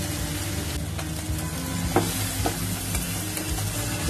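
Dry spice masala for chhole fries in hot oil, a dense, constant close sizzle with faint scraping of a spoon pressing and stirring the paste.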